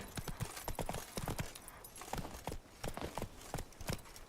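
Roach, Geralt's horse in The Witcher 3, trots with a steady clip-clop of hooves, close and fairly loud, a brief whinny mixed in among the regular hoofbeats.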